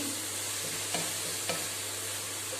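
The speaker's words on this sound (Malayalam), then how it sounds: "നന്നായി ഒന്ന് വഴറ്റി കൊടുക്കുക." Masala with turmeric sautéing and being stirred in a pan, a steady even sizzle with two brief scrapes of the spoon, close and continuous with no talk.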